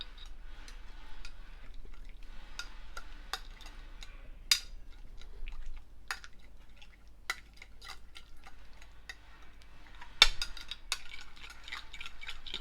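Burger sauce being stirred in a bowl after a pinch of salt and black pepper go in: light, quick ticking clicks of a utensil against the bowl, a few sharper knocks, all close and fairly quiet.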